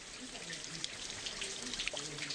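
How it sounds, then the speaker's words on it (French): Water trickles and burbles steadily close by, a soft continuous flow with small bright splashes. "le bruit de l'eau mêlé au chant des oiseaux est un vrai ravissement"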